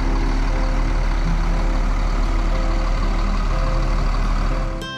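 Bus entering Kampung Rambutan terminal, a heavy diesel engine rumbling loud and steady close by, with a faint higher tone near the end.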